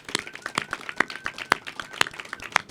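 A small crowd claps at a mural celebration, a short burst of uneven, fairly close handclaps with a few sharper individual claps standing out.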